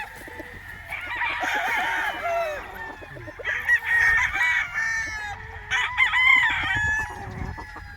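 Gamefowl roosters of the Golden Boy and Gilmore street comb lines crow repeatedly on a farm in Tanauan, Batangas, several birds overlapping in loud, drawn-out calls with clucks between them.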